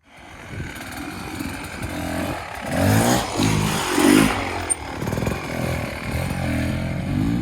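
An enduro dirt bike grinds through slow practice over rocks and logs, its engine revving and labouring in uneven bursts, loud and close throughout.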